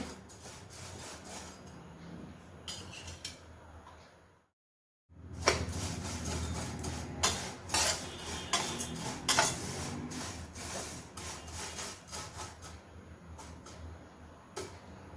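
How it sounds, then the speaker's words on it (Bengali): Raw vermicelli being stirred and fried in a pan over very low gas, with a steady scraping, rubbing texture of a utensil against the pan, loud and close, broken by a brief silent gap before the stirring resumes. "একটু লাল লাল করে ভাজতে হবে সিমুইগুলোকে"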